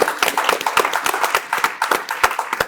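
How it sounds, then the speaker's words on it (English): A small audience gives a round of applause for a debate speaker, sparse individual claps with an uneven rhythm, close and distinct, lasting a few seconds. "Can we get a round of applause, please, to Grace?"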